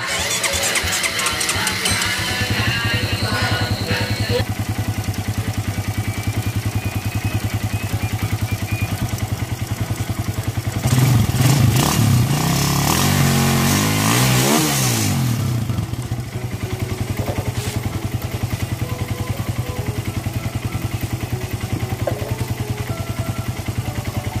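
A Suzuki Raider 150 motorcycle engine is cranked over repeatedly, a loud continuous mechanical churn and clatter close to the microphone, with a stronger surge in the middle of the sequence.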